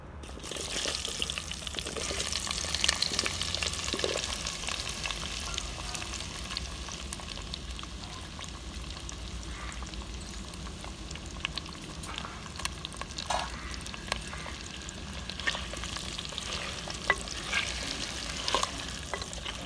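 Chopped potatoes frying in oil with turmeric in a pan for Gujarati Khambhatiyu shaak, a continuous close sizzle broken by scraping, clicking stirs throughout, with no talking.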